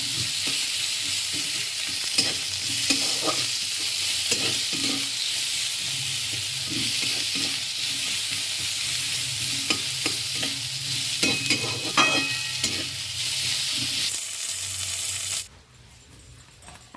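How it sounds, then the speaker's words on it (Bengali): Onions being stirred and fried until brown in a pan of tempered spices for a dhaba-style egg curry with potato, a steady loud sizzle with repeated scraping and clinking stirs throughout, cutting off near the end. "পেঁয়াজটা আমি এবার একটু ব্রাউন কালার করে ভেজে নেব"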